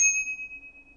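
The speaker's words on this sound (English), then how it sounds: "I also installed the bell, which sounds like a bell." A single bright ding from the bicycle bell on a REVR V5 Pro eBike rings out close and clear, then fades over about a second as the tone lingers.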